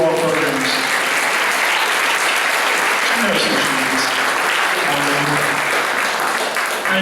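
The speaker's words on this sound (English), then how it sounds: "I'd like to give a round of applause to the person that does not need to be recognized." A holiday concert audience claps steadily in a sustained round of applause, dense and even throughout, with a few voices faintly audible beneath it.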